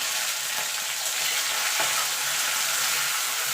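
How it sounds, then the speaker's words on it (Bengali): Shrimp paste frying together with bottle gourd leaves and nigella seeds, a dense, loud, unbroken sizzle of hot oil with a single soft stir knock midway, close and alone. "এবার হালকা করে এগুলো ভেজে নেব আমি একসঙ্গে ভাবছি"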